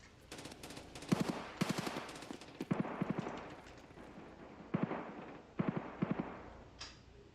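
Gunfire from Escape from Tarkov comes in short rapid bursts of automatic shots, several separate volleys sharp against a quieter background, with faint talk between them.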